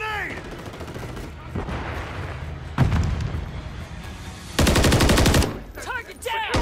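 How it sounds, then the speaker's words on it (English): Call of Duty MW3 multiplayer battle on PS5: a grenade blast booms amid bursts of rapid automatic gunfire, including a loud sustained volley, with in-game radio voices calling out between shots. "Throwing grenade!"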